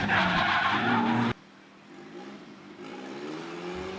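Drift cars at a drift competition slide sideways with a loud, sustained tire squeal and engine roar, which cuts off abruptly and gives way to quieter, distant engine noise and faint squealing.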